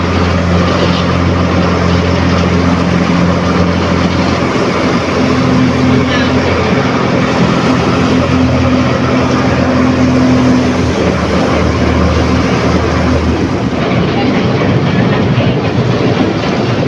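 Ferry boat crossing the Chao Phraya from Khlong San pier to Si Phraya pier in Bangkok, a steady loud engine drone with low hum and water rush throughout, with voices in the background.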